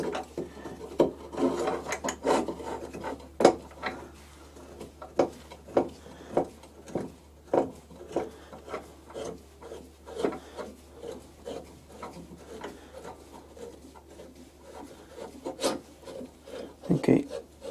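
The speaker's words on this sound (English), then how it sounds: "I'm going to try and ream it by hand" A hand reamer held in a drill chuck is worked by hand through a hole in a metal boring bar holder, with a little oil. It makes a series of rhythmic scraping, rasping strokes, close and moderately quiet.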